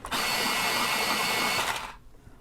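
An electric pencil sharpener grinding a coloring pencil, a loud, steady motorized whir held close for about two seconds before cutting off.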